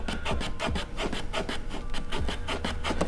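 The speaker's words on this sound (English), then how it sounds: "you can start kind of squeegeeing it down with your thumb" Tint film is squeegeed down by thumb onto a VW MK2 Tiguan badge, a close, rapid series of rubbing, squeaking strokes in a quick steady rhythm.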